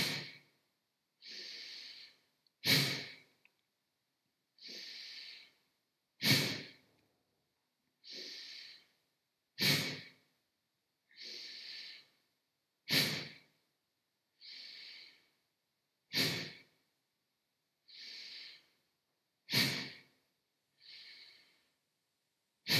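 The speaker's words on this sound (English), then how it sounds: "You're inhaling for 2, exhale for 1." Rhythmic pranayama breathing during a morning yoga session: about a dozen cycles, each a longer inhale followed by a short, sharp exhale through the nose, close and clear with silence between breaths.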